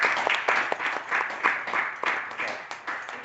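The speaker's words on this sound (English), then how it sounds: "We'll give Sherry another round of applause" Audience applause at a public workshop evening, close, uneven clapping from a modest crowd with distinct individual claps pulsing throughout.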